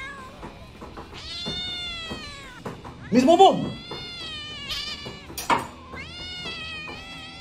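A female cat meows loudly and insistently several times, with drawn-out, wavering cries, while a person speaks over and between the meows.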